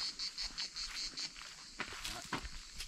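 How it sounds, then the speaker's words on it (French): Cicadas are heard outdoors as a faint, pulsing buzz in a regular rhythm of short bursts, followed by a steadier hum mixed with rustling movement. "On entend les cigales, mais on ne les voit pas."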